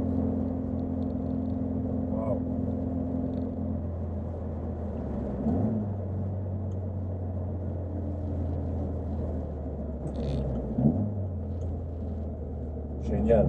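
An Alfa Romeo Giulia Super 1600 runs steadily from inside the cabin, a smooth low engine drone whose pitch drops and settles with gear changes, with a voice speaking over it.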